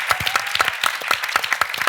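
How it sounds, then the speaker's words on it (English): Audience clapping for a guest speaker at a film event, a short burst of fairly sparse, distinct hand claps close by, with a steady uneven rhythm and no one talking over it. "So one more round of applause for our esteemed guest."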